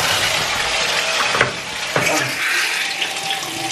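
A hotel bathroom shower at the MGM Grand in Las Vegas is turned on and water runs in a loud, steady hiss and splash, with a couple of brief sharper bursts as the spray shifts.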